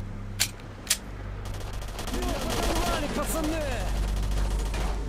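Two sharp, close shotgun blasts crack out early in the video game Stalker: Shadow of Chernobyl, followed by sustained background gunfire with speech over it.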